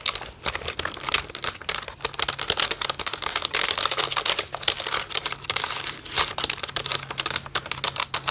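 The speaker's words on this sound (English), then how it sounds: "What about some keyboard tapping?" Keyboard tapping for ASMR, close and crisp rapid clicks of keys in irregular bursts with brief pauses, loud and alone without speech.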